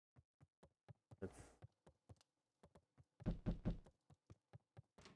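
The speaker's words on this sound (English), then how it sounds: "that knocking sounds really annoying" Repeated knocking on a door in the video game Beacon Pines, a steady series of sharp, quiet raps in an irregular rhythm, with a couple of louder muffled thumps partway through.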